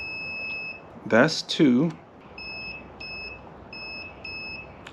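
A multimeter beeps in continuity mode while its probes touch connector pins in a Honda CRX Si's brake light wiring. A steady tone is followed by several short, clear beeps, with brief close speech near the start.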